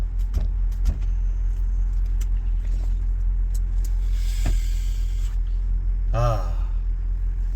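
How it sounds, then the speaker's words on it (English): A car sits stopped in road traffic with a steady low engine idle and rumble, faint clicks and knocks inside the cabin, and a brief voice near the end. "Stopped in traffic."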